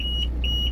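Door lock alarm in a Volvo FMX 400 dump truck cab gives two steady electronic beeps about a quarter second apart over a low engine hum.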